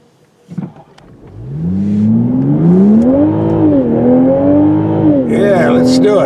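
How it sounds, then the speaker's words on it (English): A 2022 Toyota Supra with a six-cylinder engine accelerating hard along a dark back road, its loud engine note rising steadily in pitch, dipping briefly at a shift, then climbing and holding close up. "let's take this out in the boonies and drive this the way it was meant to be."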